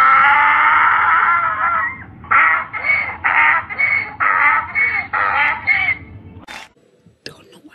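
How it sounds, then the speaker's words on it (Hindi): A donkey's bray played by a voice assistant on a Mi Note 8 Pro phone: a long harsh opening call, then a rapid rhythmic series of loud wheezing pulses, ending with a couple of brief clicks. "गधे की आवाज ऐसी होती है।"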